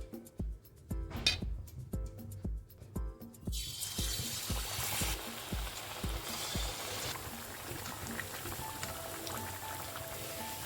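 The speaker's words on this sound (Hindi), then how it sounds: "फिर एक कढ़ाई में कॉलीफ्लावर फ्राई करने के लिए मैंने ऑयल चढ़ा दिया है" Cauliflower pieces dropping one by one into hot oil in a kadai, starting with sparse crackles and thumps, then swelling into a dense, steady sizzle that fills the rest of the time.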